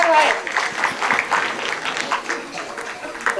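An audience claps steadily throughout a Hindi poetry recital at a kavi sammelan. The applause runs as a continuous crowd sound with fluttering peaks.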